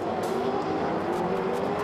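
A pack of 2002 V8 Supercars, Holdens among them, roar down the straight at the Canberra 400 street race, a continuous loud engine drone with a passing whine, with no voices.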